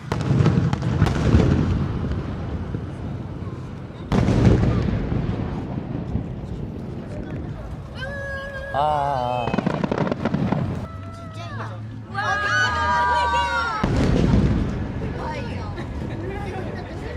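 Booming fireworks bursts go off every few seconds amid a crowd at a summer festival in Japan, with people talking and a live band playing in the background.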